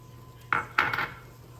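A utensil scrapes and taps twice against a pan while flour mixture is gently stirred into a frittata, short close clatters over quiet background.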